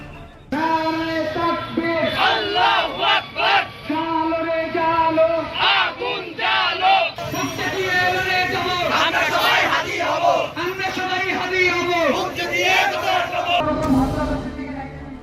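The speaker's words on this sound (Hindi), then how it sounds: "भारत विरोधी नारेबाजी शुरू हो गई" A large crowd outside the Indian Assistant High Commission in Rajshahi, Bangladesh, chants anti-India slogans in loud rhythmic bursts, many voices shouting in unison with brief pauses between lines.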